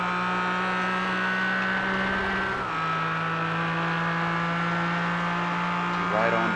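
Race car engines held at steady full throttle in a sim racing game on an oval speedway, a sustained droning whine with a brief pitch dip midway and a commentator talking over it.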